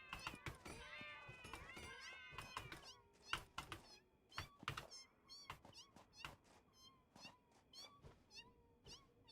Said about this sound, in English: Why does it still meow at me when it's dead?